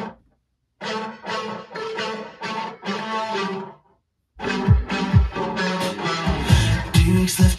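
Guitar run through fuzz, delay, glitchy corruption and wobble effects, a choppy sequence of distorted plucked chords in short rhythmic bursts, a silent gap, then a denser and louder processed phrase.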